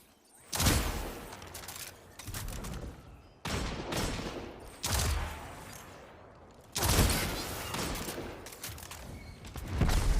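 Hand cannon fire in Destiny's Crucible PvP mode: loud, sharp gunshot bursts crack out in separate clusters across the span, each with a short ringing tail, close and punchy, with no talk over them.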